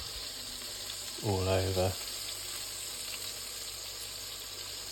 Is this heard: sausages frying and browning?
yes